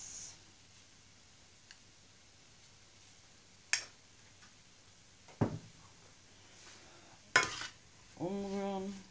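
Sparse clinks and scrapes of a utensil stirring stuffed mushroom filling in a pan, a few sharp isolated taps over a faint background hum, quiet and close, no talking.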